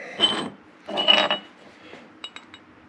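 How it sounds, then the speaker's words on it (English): A 5/16-18 thread tap being turned into holes in a cable protector for a military truck's parking brake gives two creaking, grinding bursts followed by a few light metallic ticks, close by. "I'm going to tap these holes with 5/16 18 threads"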